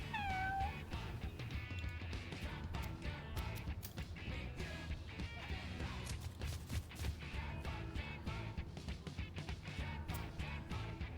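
Cats meowing in the Mewgenics video game, several short cartoonish mews and caterwauls scattered among game effects and background music, moderately loud with no talk.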